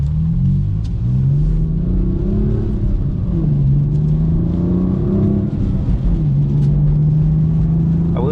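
Manual 2020 BMW M4 Competition F82 pulling through the gears in a rainstorm, a loud, steady engine drone rising and falling in pitch as it accelerates, with a wet road hiss underneath and no talking.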